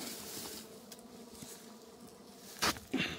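Wild bees buzzing around a honeycomb as it is cut out and removed, a dense steady drone from many insects close by, with a few brief handling knocks near the end.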